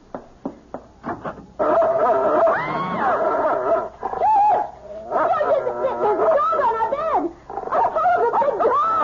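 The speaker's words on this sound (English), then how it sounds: "It's only a dog, for Pete's sake. He's not going to hurt you." A dog in a 1974 radio mystery drama gives a few sharp barks, then whimpers and whines at length in the foreground, with a brief pause partway through.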